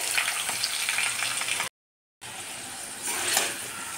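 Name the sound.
potatoes frying in oil with asafoetida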